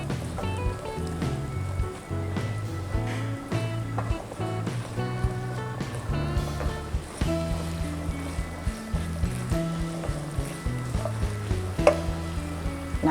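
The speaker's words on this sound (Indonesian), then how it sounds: "yang pertama kita akan tumis adalah bawang bombay" Onions sauté in oil in a pan for a savory choux pastry filling, a steady sizzle and crackle running beneath louder background music.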